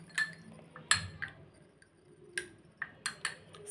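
A spoon mixes aloe vera gel into a saffron face pack in a small bowl, making scattered light clinks and taps against the dish with quiet gaps between them, close and fairly faint, with no voices.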